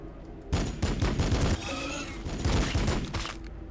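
Bursts of gunfire from the Warhammer 40k Battlesector strategy game, a rapid volley of overlapping shots that rattles for about a second, pauses under a steady battle hum, then another sustained fusillade follows.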